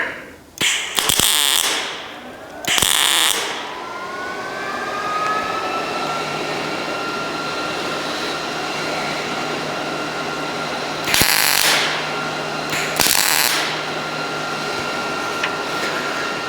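Welding a custom grille on a 1970 El Camino, with bursts of crackling arc noise at the start and near the end and a steady mechanical hum in between.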